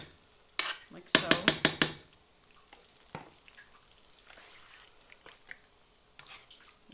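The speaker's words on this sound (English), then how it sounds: "And just mix it in" Sauce stirred into beef stroganoff in a pan, with a quick burst of rapid metallic scraping and clatter early on, then quieter intermittent clinks and light scrapes, a voice speaking softly between.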